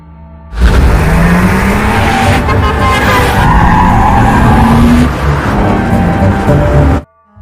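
In a film scene, a car speeds off with loud tires skidding and squealing; the screech starts abruptly, holds for several seconds over the engine's roar, then cuts off sharply.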